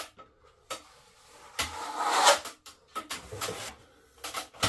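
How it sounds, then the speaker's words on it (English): A scraper dragged along the edge of a plasterboard patch while repairing a water-damaged ceiling: close rasping strokes of varying length, including one longer, louder scrape, with brief pauses between them. "You can hear I'm scraping to make sure I've got it nice and fine on that edge."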